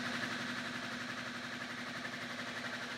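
A motor driving a generator under electrical load hums steadily and fairly quietly, a constant whirring drone with no change in pitch.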